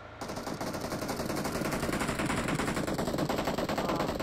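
Sustained rapid automatic gunfire in the battle royale game BGMI, a dense unbroken rattle of shots running steadily and loudly throughout.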